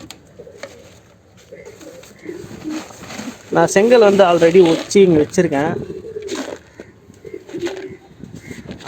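Pigeons at a racing homer loft coo softly with occasional wing flaps in the background while someone talks loudly over them for much of the time.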